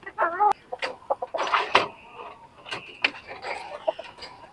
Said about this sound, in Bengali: তো এখন বের করব। এর ভিতরে লাল মুরগিটা আমি এখন নিব।